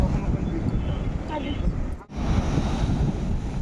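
Sea waves wash up onto a beach at Pondicherry, making a continuous close rush of surf under heavy wind buffeting, with a brief dip partway through.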